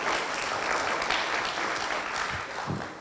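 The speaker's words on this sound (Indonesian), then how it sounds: "Kita berikan tepuk tangan" Audience at an early childhood education training workshop in Sidoarjo claps together in a steady burst of applause lasting a few seconds and tapering off at the end.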